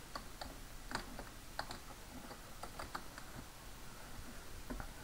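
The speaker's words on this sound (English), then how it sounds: "I'm going to begin by typing URLVoid" Someone types on a computer keyboard with soft, irregular key taps in short bursts. The sound is faint and close, over a quiet room hum.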